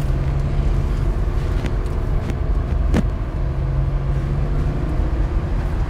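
A car drives along an old bridge in Dorset, its low engine and road rumble heard from inside the cabin, steady and loud throughout with no talk.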